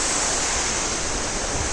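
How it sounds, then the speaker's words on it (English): A waterfall in monsoon season near Panshet, a steady dense rushing roar of falling water, loud and continuous with no break. "You can see this beautiful waterfall here."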